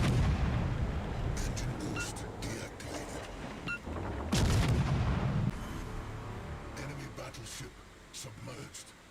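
Heavy naval guns fire in World of Warships Legends with deep booming salvos, one loud blast midway and fainter reports after, under spoken commentary.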